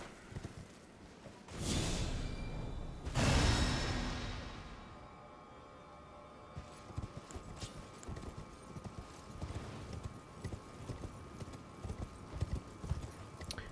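A horse's hooves clip-clop in the video game Elden Ring: two loud whooshing swells come first, then a steady galloping rhythm of hoofbeats carries on to the end.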